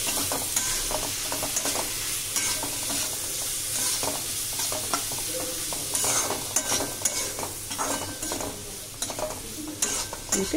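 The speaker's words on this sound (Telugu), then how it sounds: "సో ఇప్పుడు దీన్ని మొత్తం కలిపేసుకుని మళ్ళీ ఈ కోకోనట్ అనేది ఫ్రై అయ్యేంత వరకు అయితే ఫ్రై చేసుకుందాం" Grated coconut fries and sizzles steadily in a pan for a mutton fry dish, with repeated scraping stirs from a spatula, close and continuous, and no talk.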